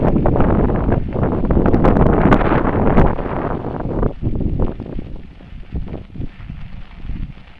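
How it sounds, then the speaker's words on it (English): Strong headwind buffets the microphone of a bicycle rider on a rail trail, gusting loud and roaring for the first few seconds, then easing into uneven, fluttering rushes. "Now I'm riding against the wind."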